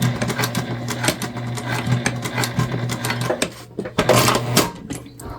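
A sewing machine stitching a tote bag runs in quick rhythmic bursts of mechanical chatter with a steady motor hum, close and loud, pausing briefly before a final louder run.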